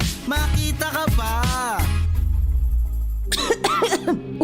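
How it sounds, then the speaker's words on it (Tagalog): A person coughs harshly several times in quick succession, with thick, congested bursts that sound heavy with phlegm, close and loud, followed by throat-clearing sounds. "Ubo, premang nakabara, hirap sa paghinga"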